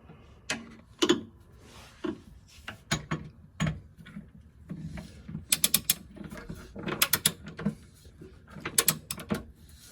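A ratchet wrench torques down subframe locking bolts on a Subaru Impreza WRX GD, giving irregular clicking bursts and metallic clunks, close and moderately loud, with quiet gaps between.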